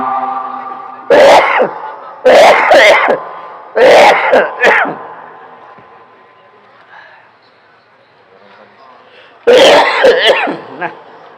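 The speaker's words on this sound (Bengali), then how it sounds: "কাশিটা তো বন্ধই হচ্ছে না, কি ঝামেলা।" A preacher at a religious sermon coughs hard and repeatedly into a microphone, four loud harsh bursts in quick succession, then a pause before another cough, close and dominant.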